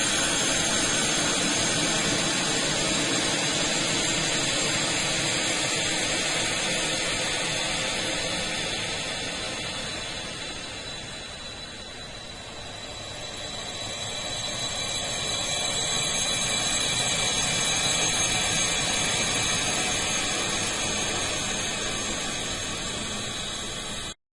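A glassy sound effect time-stretched into a long, steady hiss-like roar with a dip in level midway, then swelling back before cutting off abruptly, alone.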